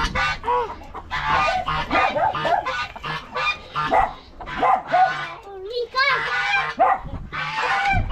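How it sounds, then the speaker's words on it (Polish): Chickens cluck and squawk close by in a farmyard, mixed with ducks, honking geese and barking, while people talk over the noisy flock. "tu są i kaczki, i gęsi, i kury"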